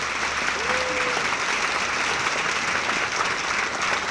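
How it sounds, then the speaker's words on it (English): An audience at a science communication competition final claps steadily in dense, sustained applause, loud and even from start to finish. "So one more time, can we have some applause for Jim?"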